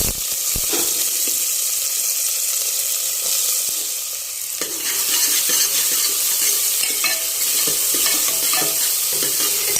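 Onion goes into hot oil with toasted cumin, bursting into a loud, close sizzle that settles into a steady crackling hiss, with a few stirring knocks and no talking.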